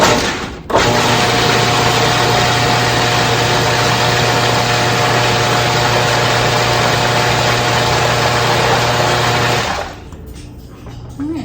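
A food processor blends pesto with a loud, close, steady motor whir that runs for about nine seconds and then stops, with no talk over it.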